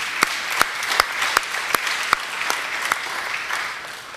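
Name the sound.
audience applause for the advocates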